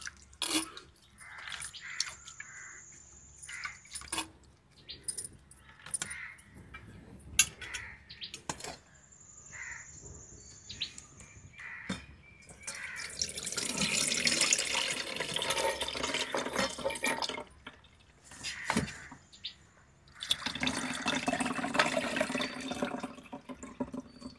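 Soaked tamarind water is strained by hand, with intermittent trickling, dripping and pouring that swells into longer splashy runs. Birds chirp faintly in the background.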